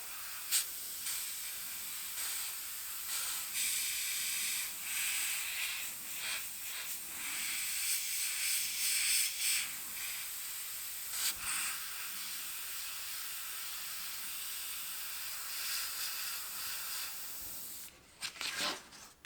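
Airbrush spraying homemade acrylic paint through a small stencil: a steady, soft hiss of air and paint that runs almost unbroken for a long stretch, then briefly stutters near the end.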